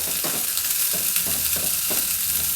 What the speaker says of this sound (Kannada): ತುಂಬ ಏನು ಬೇಯಿಸೋದು ಬೇಡ, ಸ್ವಲ್ಪ ಎಣ್ಣೆಲಿ ಬಾಡಿಸಿದ್ರೆ ಸಾಕು.